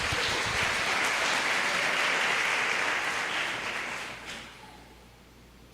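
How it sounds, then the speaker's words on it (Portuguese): A church congregation claps together, a dense, sustained wash of applause that holds steady for several seconds and then tapers off and fades toward silence. "Vamos aplaudi-lo por isso"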